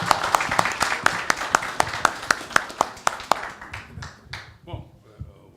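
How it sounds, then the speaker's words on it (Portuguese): Audience at a Brazilian political event with pre-candidate João Amoedo of the NOVO party gives a short burst of steady, rhythmic clapping from a few people nearby, fading out after about three seconds into low murmuring and scattered sounds. "Uma salva de palmas."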